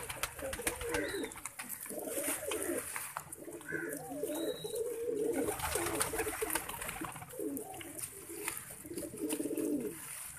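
Pigeons coo steadily inside a breeding cage where squabs are raised, a dense overlapping chorus of low throaty calls close by, with slight background rustling throughout.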